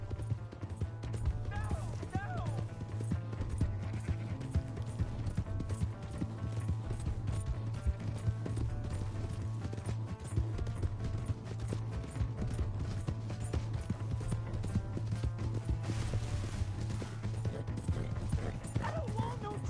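Hooves of a galloping horse in Red Dead Redemption 2 pound in a fast, steady rhythm throughout, close and continuous, over a low droning background with occasional creaks.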